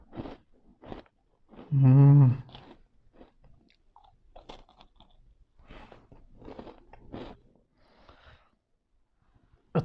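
Crunchy imported cookies bitten and chewed close up, one loud crisp bite followed by softer, irregular chewing crunches, with a short spoken word near the start.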